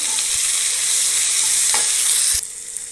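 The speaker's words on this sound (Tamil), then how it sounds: "வெங்காயம் போட்டுக்கிறேன் வெங்காயம் நல்லா வதங்கட்டும்" Onions sautéing in hot oil with crushed ginger and garlic for a cabbage fry, a loud, close, continuous hiss of sizzling with a few soft knocks of stirring before it suddenly drops away near the end.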